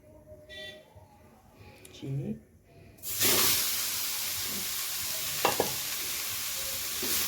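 Carrots hitting hot ghee in a pan for gajar halwa, starting a loud broad sizzle that settles into steady frying hiss, with a brief stirring scrape; quiet clatter and faint voice before the sizzle begins.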